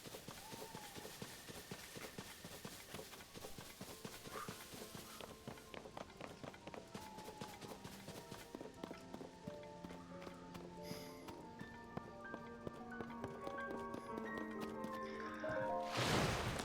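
A horse in the video game Zelda Tears of the Kingdom gallops with quick, continuous hoofbeats over a layered game music bed, growing slightly louder toward the end.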